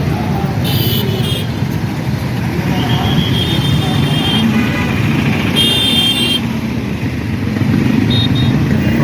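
Busy street traffic at a circle in Proddatur, India, with cars and motorcycles passing in a steady, continuous roadway roar; horn-like tones rise briefly at intervals above the dense engine hum.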